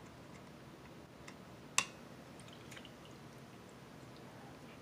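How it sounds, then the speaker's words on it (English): Water drips from a small tabletop fountain onto little stones, heard as a faint, quiet ticking with one sharper drop standing out over a soft steady background. "it's a little fountain, and it drips water down, and there's like little stones to catch the water"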